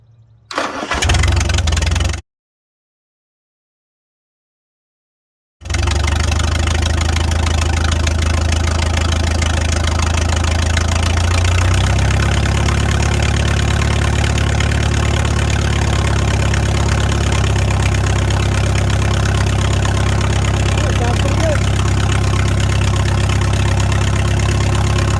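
A Farmall 300 tractor engine with a freshly rebuilt carburetor cranks, fires and settles into a loud, steady idle nearby, with a low rumble running on after a short silent gap.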